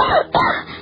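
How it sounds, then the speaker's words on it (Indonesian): In an Indonesian radio drama, a man who is coughing up blood gives two short, harsh, close coughs in quick succession. "Batuk-batuk ayah mengeluarkan darah."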